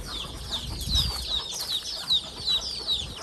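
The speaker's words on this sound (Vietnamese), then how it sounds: "cái đàn gia cầm đây" A flock of farmyard poultry, including Dong Tao, bantam and fighting chickens, clucks and chirps at a rural Vietnamese garden plot in Xuyen Moc, with repeated close, lively calls overlapping throughout.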